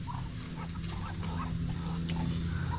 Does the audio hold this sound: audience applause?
no